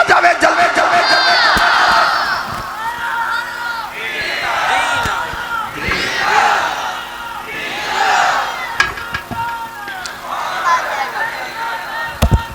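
A large crowd at a Khatm-e-Nabuwat religious conference in Chowk Azam loudly chants slogans in call-and-response, rhythmic swelling roars of many voices repeating over and over, with a leader's voice cutting in between.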